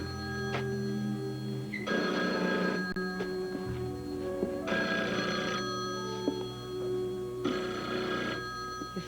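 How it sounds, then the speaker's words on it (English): An old telephone bell rings in three evenly spaced bursts in a 1983 television drama scene, each ring lasting about a second, fairly loud over a steady background hum with no talk. "Your phone's ringing."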